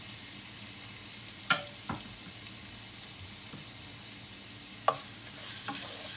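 Garlic ginger paste frying in oil in a karahi for chicken, a faint steady sizzle with a few sharp stirring clinks and scrapes scattered throughout, no voices.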